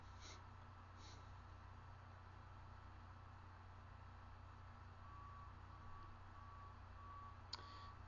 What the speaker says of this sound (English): That's the dump truck outside.